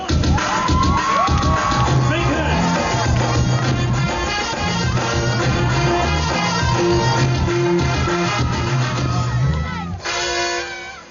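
A concert crowd at Bahria Town cheers and shouts loudly and steadily as a singer is welcomed on stage, a dense wall of voices with music-like tones threaded through it, easing off near the end.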